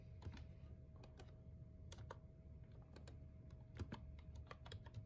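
Someone types an IP address on a computer keyboard, producing a quiet run of crisp, close key clicks in an uneven rhythm over a faint steady hum.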